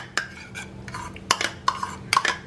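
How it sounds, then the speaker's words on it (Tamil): Pepper being stirred into creamy ingredients in a bowl for a low-calorie dinner, heard as a few sharp clinks of a utensil against the dish between soft scraping, close and alone. "பெப்பர், இப்போ இதில் இதை வந்து மிக்ஸ் பண்ணிடலாம்"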